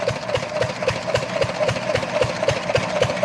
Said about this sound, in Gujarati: આ છે અમારું એન્જિન ચાલી રહ્યું છે ધમધમાટ એન્જિન